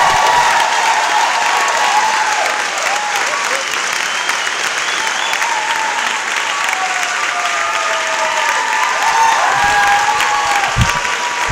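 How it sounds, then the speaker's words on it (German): Loud, sustained audience applause as a comedian takes the stage, thick continuous clapping from a large crowd with faint cheers mixed in, unbroken for the whole stretch. "Applaus, bis er die Bühne betritt."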